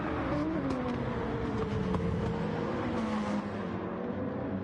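Mercedes SLS GT2 race car in a racing game at Alsace, a steady loud engine drone with a rising and falling pitch as it pulls through gears, other cars faintly mixed in.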